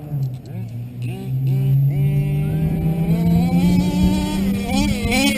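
A pulling truck engine under throttle drones steadily and climbs slowly in pitch as it strains against the load, its back end kicking up, with voices talking over it.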